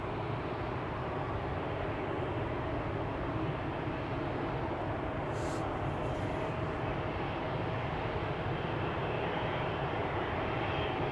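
Steady, loud roar of a KLM Embraer 195 E2 jet airliner departing Amsterdam Schiphol, a continuous broadband engine rush sustained throughout without voices.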